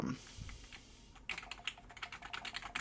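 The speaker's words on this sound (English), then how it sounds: "keyboard clicking is pretty awesome" Someone types quickly on a cheap free computer keyboard, and the close, quiet key clicks come in a rapid, uneven run after a short pause.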